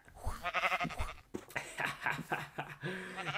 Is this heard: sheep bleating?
yes